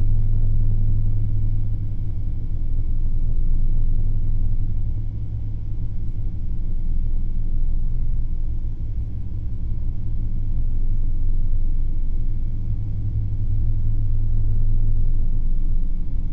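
Aircraft engines run in the Eurofly flight simulator game, giving a steady, loud low rumble with a constant droning hum that holds throughout, with no voices.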